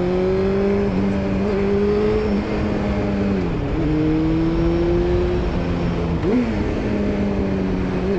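A car engine accelerates on a winding road, its steady tonal drone rising in pitch through gears with brief dips at shifts, loud and close, continuous over road rumble, with no talk.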